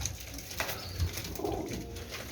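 Pigeons in a home breeding setup of cross-paired birds, giving a steady low cooing close by, with soft rustling and chatter from other birds behind.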